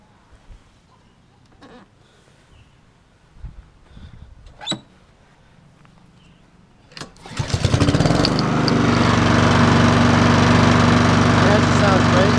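A Honda 216 lawn mower sits quiet at first with a few small knocks and handling sounds, then its engine pulls into life and settles into a loud, steady running drone close by.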